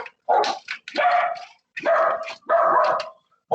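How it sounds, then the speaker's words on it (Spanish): Dogs bark close by in a quick run of four loud, harsh barks with short gaps, and no one talks over them. "me disculpen por el ruido de los perros"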